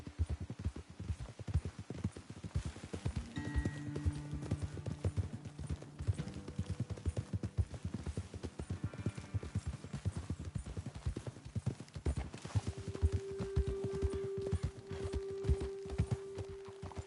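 Horses trotting in a Western open-world game, a steady clip-clop of hooves on dirt with a brief whinny and faint background tones, no talk.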